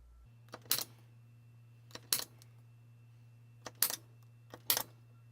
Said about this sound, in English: We'll punch right through the paper as close to the holes as possible with a spring punch